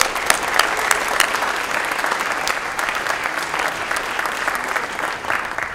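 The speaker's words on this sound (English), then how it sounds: "Big round of applause for Richard Penny, everybody." Steady crowd applause at a Rand Paul campaign event in Minnesota, dense clapping sustained throughout at an even, fairly loud level with no voices over it.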